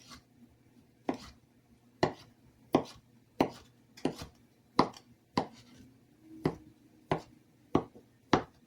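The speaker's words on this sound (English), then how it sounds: "I'm just rough chopping them" A knife rough-chops sausage on a cutting board in about a dozen sharp, evenly spaced thuds, close and fairly quiet, with no talking.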